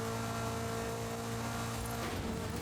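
A Honda Formula 1 engine revs hard and steadily, its loud continuous drone holding close and constant with no talk over it.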